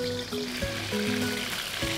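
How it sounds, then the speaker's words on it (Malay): Soft, steady sizzle and crackle of chicken frying in hot oil, with faint background music tones over it. "Dan kita goreng sekarang."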